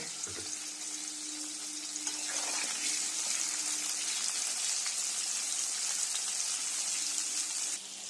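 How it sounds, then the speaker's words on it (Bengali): Pointed gourd (potol) fries in a kadai for a vegetarian muri ghonto, giving a steady, close hiss of sizzling oil. A brief clank of stirring comes early, and the sizzle continues evenly to the end. "এবারে আমরা পটলটাকে ভালোভাবে ভেজে নেব"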